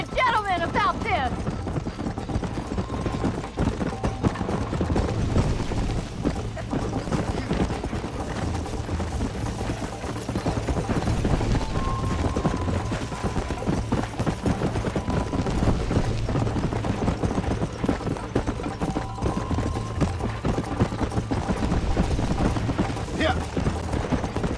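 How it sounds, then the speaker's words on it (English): Horse hooves gallop in the Red Dead Redemption game, a steady, fast clip-clop that runs throughout. People talk over the hoofbeats, and occasional game sounds mix in. "Peguei o jeito do cavalo aqui."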